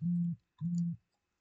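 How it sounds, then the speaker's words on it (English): A mobile phone gives two short identical low electronic tones, each about a third of a second with a brief gap, sounding alone in a quiet room. "Why is my phone making noises?"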